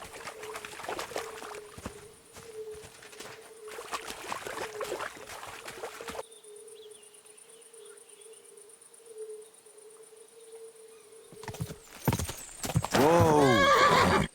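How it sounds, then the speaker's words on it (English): Horse hooves clip-clop steadily along with neighing in Kingdom Come Deliverance II, a medieval open-world game, over a constant tonal hum and insect-like chirps; a loud burst of activity and whinnying follows near the end. "I managed to collect a horse"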